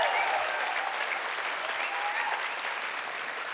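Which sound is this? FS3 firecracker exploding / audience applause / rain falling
audience applause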